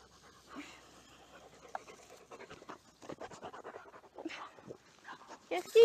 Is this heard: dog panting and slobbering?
yes